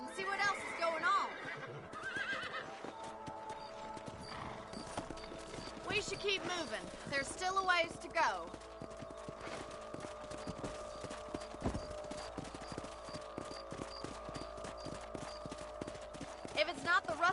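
Horses in the video game Red Dead Redemption, rhythmic hoof clip-clops with several loud neighs and whinnies early on, mixed with in-game characters talking.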